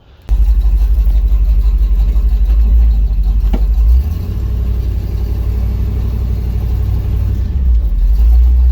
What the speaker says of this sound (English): I'll get in the truck and show you guys how it runs now.